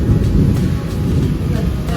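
Heavy downpour with thunder: dense, loud rain roars steadily throughout, with deep low rumbling underneath and no clear speech.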